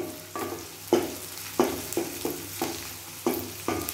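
Onions sautéing in oil for a horse gram chutney, with a spatula scraping the pan in a steady rhythm of strokes over a continuous close sizzle.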